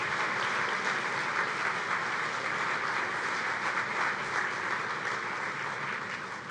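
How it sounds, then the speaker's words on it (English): Audience applause at an academic consortium conference honoring student scholarship winners, a sustained, even crowd of clapping lasting several seconds and easing slightly at the end. "Give them a round of applause"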